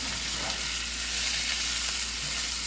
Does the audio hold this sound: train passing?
no